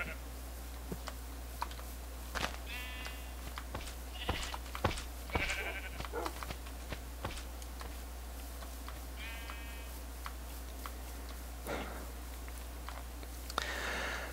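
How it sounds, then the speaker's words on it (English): Sheep in a video game bleat faintly a few times over a steady low hum, with keyboard clicks tapping throughout. "There's a lot of sheep here."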